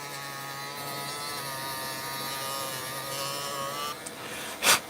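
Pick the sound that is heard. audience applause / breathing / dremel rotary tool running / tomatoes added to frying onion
dremel rotary tool running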